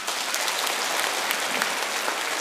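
Steady applause from an audience at a spiritual consultation event, a dense wash of many hands clapping continuously for a few seconds without pause, no voices on top.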